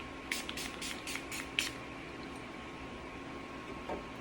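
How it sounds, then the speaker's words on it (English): Several quick, soft spritzes of a makeup finishing spray misted onto a face come in a rapid row, then quiet room tone with a faint steady hum. "So you're just gonna spray it on your face"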